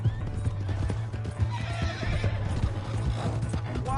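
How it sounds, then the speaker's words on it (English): Horse in Red Dead Redemption 2 whinnying over a steady clip-clop of hooves, close and continuous, with a constant low engine-like hum beneath throughout. "Hey, that's my horse!"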